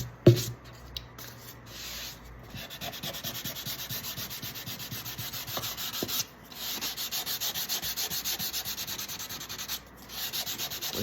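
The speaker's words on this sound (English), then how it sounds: "there's still a lot of sanding that needs to be done" Hand sanding on the wooden soundboard of an octave mandolin makes continuous rhythmic rasping strokes, close and fairly quiet, with brief pauses between passes.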